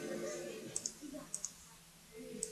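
Mouse clicks from a Minecraft 1.5.2 session, a few sharp light clicks, some in quick pairs, close and fairly quiet over a soft background hum with faint talk.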